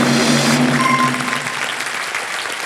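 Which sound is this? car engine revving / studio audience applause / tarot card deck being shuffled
studio audience applause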